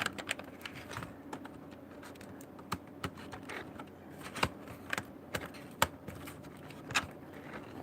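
A Lenovo ThinkPad laptop keyboard is pressed into place with scattered light clicks and taps, quiet and close, coming in irregular bursts over a faint background.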